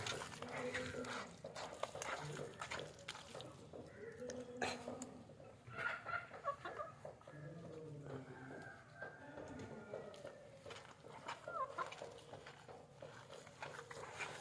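Country chickens wander into a house to peck at bran, with soft clucks and scratchy pecking sounds close by, while someone talks over them for much of the time.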